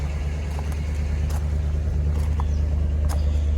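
Dodge Challenger engine running after a cold start, a steady low rumbling idle with a few faint clicks and taps above it.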